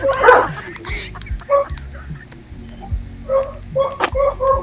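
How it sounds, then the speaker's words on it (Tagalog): Dogs bark on a street in the Philippines, giving several short sharp barks and yips in uneven bursts at close to mid distance. A background hum and some talk sit underneath. "Mga aso na yun nag-uusap."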